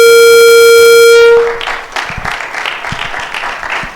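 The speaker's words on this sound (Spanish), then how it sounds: "un fuerte aplauso para recibirlo" An audience at a university entrepreneurs' club fintech event applauds to welcome a speaker. A loud, steady electronic tone cuts off first, then even, close clapping continues to the end.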